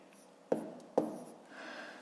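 A pen writes out numbers for a long-division problem in a fifth-grade math lesson: two sharp taps, then a brief scratchy stroke across the surface, close and fairly quiet with no talking.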